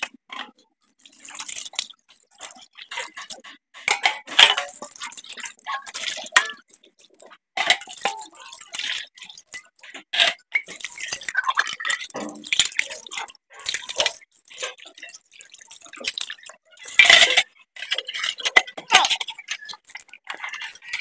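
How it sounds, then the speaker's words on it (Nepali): Dishes being washed by hand: intermittent clinks of pots and cutlery, drips and splashes of water, close and irregular, with brief quiet gaps between bursts of activity. "अहिले मैले चाहिँ भाँडा धुँदैछु हैन।"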